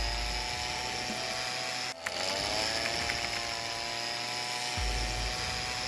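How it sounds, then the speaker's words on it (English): A leaf blower blasts a LEGO castle outdoors with a high, whining motor drone, loud and close, briefly cutting out near the middle before resuming steadily. "The next test is a giant windstorm, so I took my castle outside and grabbed my dad's leaf blower."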